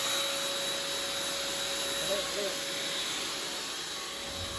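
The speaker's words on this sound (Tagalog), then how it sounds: "Tapos pagkatapos ay atin namang i-blower." An air blower cleans a computer system unit's motherboard, giving a loud, steady, close rushing hiss with a faint whine that holds throughout with little change.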